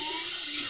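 Hot tap water runs steadily from a kitchen faucet during home dinner cooking, a brief, even hiss of flow with no speech over it.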